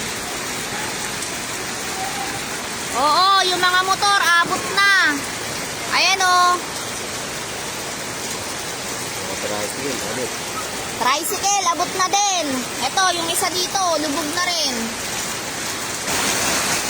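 Heavy rain pours steadily throughout during floods in Manila, a dense roar of water, while someone talks loudly over it in short bursts.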